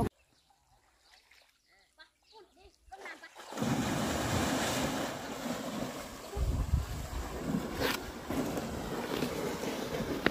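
An elephant bathing in a muddy pond, with continuous close splashing and sloshing water that fills the scene after a quieter opening with brief soft talk.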